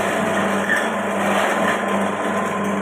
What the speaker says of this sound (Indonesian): uji coba mesin chopper mini.